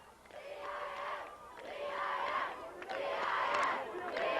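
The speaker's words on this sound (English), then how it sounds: "So the Julian crowd here on the near side starting their chant." A high school football crowd on the near side of the field chants at a CIF 1A final, rising and falling in rhythmic repeated swells, steady and somewhat distant.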